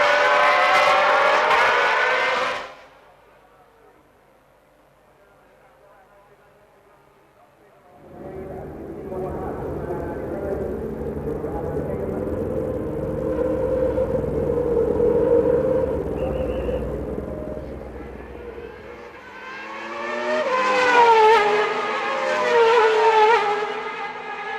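1990 Formula One race cars, including a Cosworth DFR-powered Tyrrell, howl past at the San Marino Grand Prix, loud buzzing engine notes rising and fading between stretches of commentary.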